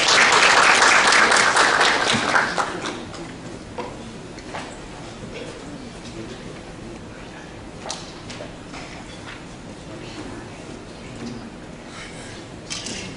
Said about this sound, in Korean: 큰 박수로 초청하겠습니다.